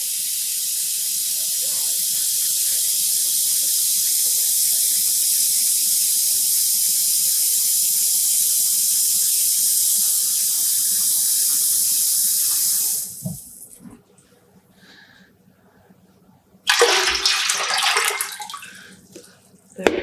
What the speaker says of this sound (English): Let's add some more water.